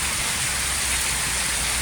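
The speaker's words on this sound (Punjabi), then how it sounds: "ਬਰਸਾਤ ਹੈ ਜਿਹੜੀ ਬੜੇ ਜ਼ੋਰ ਸ਼ੋਰ ਨਾਲ ਹੋ ਰਹੀ ਆ" Heavy monsoon rain pours down on a village in Gurdaspur, Punjab, in a dense, constant hiss, loud and close, with no breaks and no voices.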